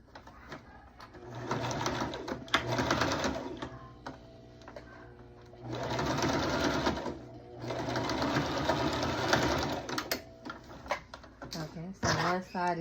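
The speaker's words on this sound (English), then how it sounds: "I'm going to pin it so that I can sew it closed." A sewing machine stitches a car seat cover closed in two long rapid bursts separated by a pause, followed by brief short runs, close and clear.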